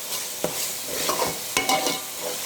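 Mutton masala stirred and frying in a pan for a mutton gravy curry: steady sizzle with a few sharp scraping strokes of the spoon, close and fairly loud, no voices.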